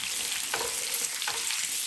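Garlic cloves sizzle steadily in a hot pan with chicken for adobo, a bright constant frying hiss with two soft stirring scrapes, no talking.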